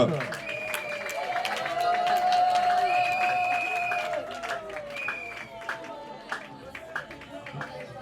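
Guests at a customary wedding applaud as the bride's parents rise, a sustained wash of clapping from the assembled crowd with voices and music-like tones running underneath before it thins out.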